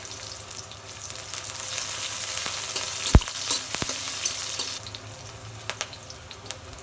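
Green chillies fry with onion and garlic in oil in a wok, giving a steady close sizzle. A couple of sharp clacks from a utensil cut through midway, and the sizzle thins slightly toward the end.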